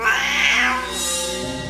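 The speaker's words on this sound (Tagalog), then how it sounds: "Natigilan ako nang may makitang pusa." A dark gray cat lets out a single drawn-out meow, loud and close, with a rising then falling whine that trails off into quiet.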